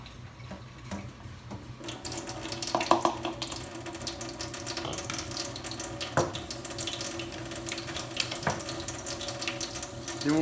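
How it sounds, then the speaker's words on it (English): Water splashes and trickles steadily from a tap as material is rinsed into a bottle for a wet screen test, with occasional clinks and knocks over the continuous flow. "We're going to rinse this to make sure that all the material goes in"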